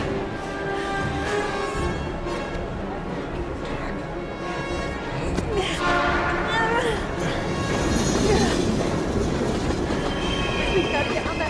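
Train rumbling along its tracks in the video game Heavy Rain, a steady loud rolling clatter through the whole stretch with metallic squeals and swells, voices and game sounds over it.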